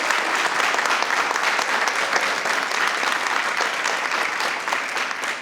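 A school board meeting audience gives sustained applause in honour of two retirees, a thick, even roar of many hands clapping that holds steady and eases slightly toward the end.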